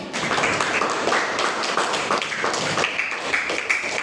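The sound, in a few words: classroom applause for a group presentation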